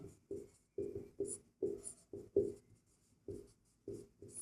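Chalk or marker taps and strokes write out a solution on a board during a Class 10 maths lesson on quadratic equations, coming as a rhythmic series of short, close scratches.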